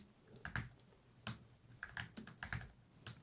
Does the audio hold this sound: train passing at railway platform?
no